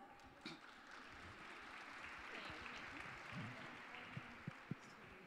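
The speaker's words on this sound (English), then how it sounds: "So everyone, please, a round of applause for our panelists." Applause from the audience at a food-themed summit panel on Hot Dish, a quiet, fairly distant patter of clapping spread across the room, with a few sharper nearby claps toward the end and faint voices mixed in.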